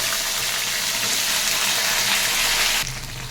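Okra and eggplant fry in hot oil in a pan with a steady, loud, hissing sizzle that drops in level and changes character near the end.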